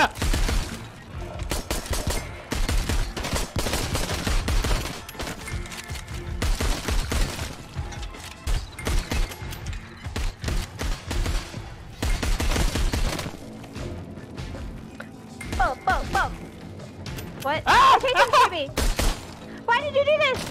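Rapid gunfire bursts from a VR shooter game ring out over the stretch, mixed with excited chatter from players, with sharper bursts and some shattering-like hits near the end.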